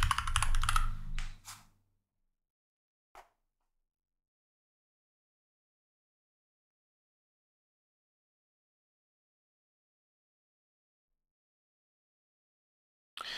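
Typing on a computer keyboard during a Nutanix disaster recovery demonstration: a quick burst of clicking keystrokes, one isolated key press a little later, then long silence and a final tap at the end.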